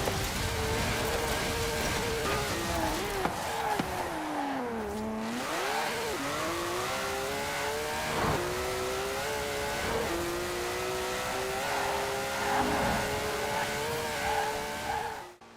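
A 1,200-horsepower car in Forza Horizon 4 accelerates hard with a loud, sustained engine roar that climbs through gear shifts, alone and close throughout.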